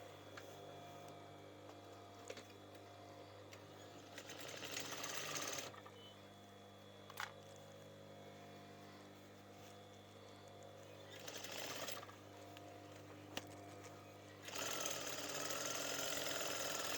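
A sewing machine stitches a cushion pillow slip in three bursts of whirring, the last running to the end, with a steady mechanical hum and quieter pauses between runs.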